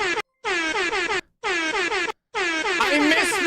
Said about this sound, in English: I missed my air horns